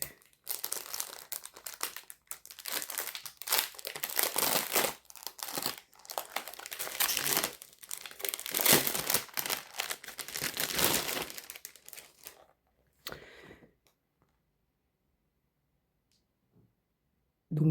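Plastic packaging around a monochrome colouring book crinkles and tears close up for about twelve seconds, then the sound drops to near silence.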